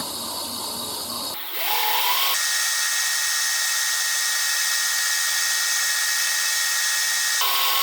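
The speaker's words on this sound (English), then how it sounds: "I'm going to give it a quick wipe over with some 600 grit sandpaper" A spinning pen blank on a lathe being sanded with 600 grit sandpaper, a steady loud whirring hiss that starts abruptly after a brief quieter motor hum and holds constant.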